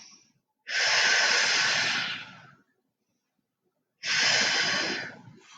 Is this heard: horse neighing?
no